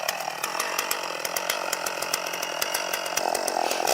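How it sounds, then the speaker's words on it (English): A chainsaw cuts into a thick, solid wooden tree stump. Its steady, loud mechanical buzz runs without a break, with repeated sharp rattling clicks from the chain biting the wood and no talking. "After cutting most of the tree stump with the chainsaw, the worker turned it off, set it aside"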